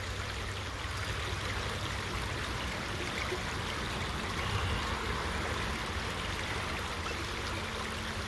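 Water flows in a stream during spring fish spawning, a constant broadband rushing and trickling, close and even throughout.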